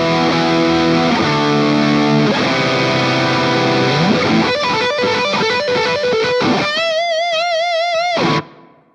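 An electric guitar plays through a high-gain Mesa Boogie amp model on a Fractal Axe-FX, first as loud sustained distorted chords, then as tight rhythmic chugs and bending lead notes, before cutting off abruptly near the end.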